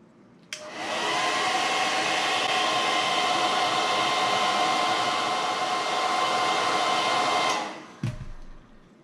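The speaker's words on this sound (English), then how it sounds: "continue with the hairdryer" A hair dryer switches on with a click, blows with a steady loud whoosh for about seven seconds while heating a USB cable, then clicks off.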